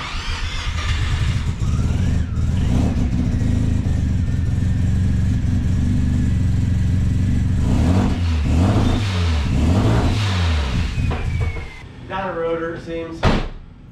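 A car engine rumbles loudly nearby on a dyno, then is revved in several quick bursts, with people talking over the noise.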